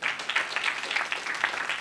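Audience applause following a refugee's personal story told in Kenya, a brief dense patter of many hands clapping at moderate volume with no talking over it.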